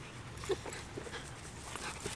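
A pet dog at a dog park gives a few faint, brief whimpers over steady outdoor background noise, with no talking.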